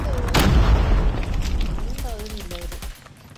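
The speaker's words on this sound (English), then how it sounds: "Be advised, hostile predator missile inbound." A hostile predator missile strikes in Call of Duty Mobile, a loud booming blast with a long rumbling tail, followed by voice chatter from the game.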